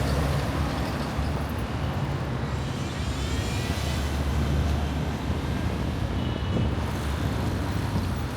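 Street traffic at a Kingston, Jamaica intersection near Hope Road and Trafalgar Road, a steady, loud roar of passing engines and rushing air that stays constant throughout with no voices.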